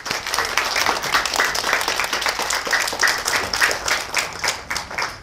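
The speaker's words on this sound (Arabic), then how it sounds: "تصفيقة على نور الهدى" A group of children in a classroom-style television show claps steadily for a classmate, a dense, even round of applause that continues throughout without voices rising above it.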